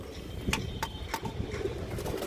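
A pigeon at a loft coos softly among the birds, low murmuring notes under brief sharp clicks and flutters, fairly close with no speech.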